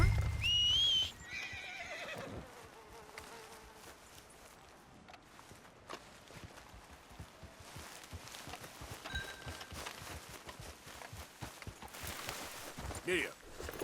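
Horse in a Western-themed game gives a sharp whinny near the start, then hooves clip-clop steadily under faint speech and ambient noise, with a few later clatters.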